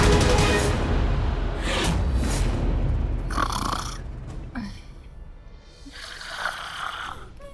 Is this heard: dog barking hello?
no